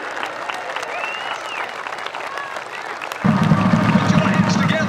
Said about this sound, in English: A big round of applause for 2015 King and Queen, Matt Abernathy and Brittany Miner.